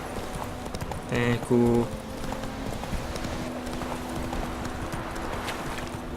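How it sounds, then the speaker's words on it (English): Horse hooves clip-clop in Witcher 3: Wild Hunt as the mount sprints, a steady rhythmic beat under game ambience, with someone briefly speaking over it. "Horse sprint, por favor."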